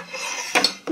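A metal fork and knife are set out at breakfast beside a plate of lazy pirozhki, giving two or three bright clinks against the plate in quick succession over faint room tone.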